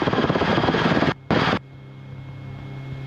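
Close and loud, a Rotorway helicopter in flight throbs with a rapid pulsing rotor beat and engine drone that cut out briefly twice, then fall to a quieter hum.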